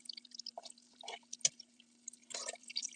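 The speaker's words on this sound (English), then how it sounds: "the microphone is actually picking up the sound of the bacon so much better than the voices" Bacon fries in a pan at low heat, producing faint, sparse crackles and small pops scattered irregularly over a quiet background.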